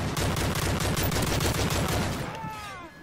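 A player's gun firing in MW3: a rapid, steady stream of automatic shots heard up close and loud, with the burst trailing off near the end.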